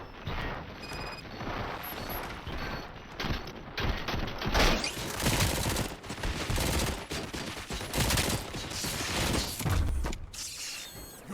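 A RoboCop video game squad opens fire in continuous loud bursts of gunshots, dense and rapid, with mechanical clatter throughout and no talking.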